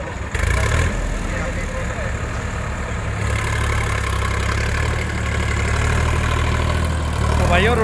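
A Sonalika 734 tractor runs a 7-foot rotavator during a field demo, its diesel engine a steady, loud low rumble that continues throughout, with faint voices in the background.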